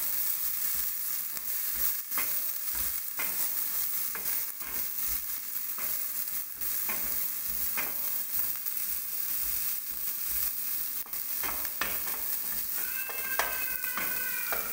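Capsicum and onion fry in a pan with a steady loud sizzle, broken by occasional scraping stirs and squeaky tones from the utensil against the pan, up close, with no speech.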